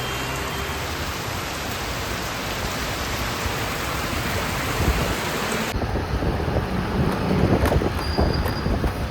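Heavy rain pours down in a dense, continuous roar, steady and loud from start to finish.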